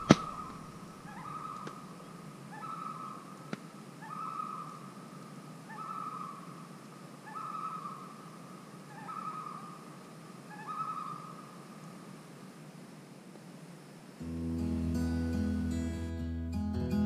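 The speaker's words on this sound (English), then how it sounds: "There's some crazy loons on this lake." Loons on a lake in Algonquin wilderness give repeated wavering tremolo calls, about eight evenly spaced phrases carrying across open water at a moderate distance, before a louder, rougher noise takes over near the end.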